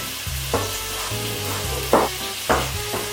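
Turkey meatballs sizzle in a pan with a steady frying hiss, while a utensil stirs them in short, scraping bursts every half second or so.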